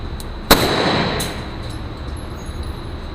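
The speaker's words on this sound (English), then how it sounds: "We're gonna start shooting now." A single sharp, loud report of a Glock 17 pistol fired at a shooting range, followed by a short echoing decay and steady background noise.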